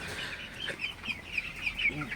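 Broiler chickens cluck and chirp in a steady, soft chorus with small repeated calls, nearby in a farm shed.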